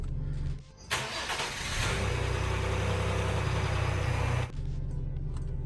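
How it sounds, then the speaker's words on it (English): A Ford Explorer ST on its stock exhaust starts up and settles into a low, steady, quiet idle, heard from inside the vehicle with no talking. "Pretty quiet, stock exhaust."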